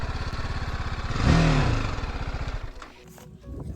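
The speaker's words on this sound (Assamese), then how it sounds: "ফাৰ্ষ্টতে বাইকখন পাৰ্কিং কৰি লওঁ" A motorcycle engine idles with a rapid chugging putter, briefly revs louder, then drops and sputters down as if shutting off.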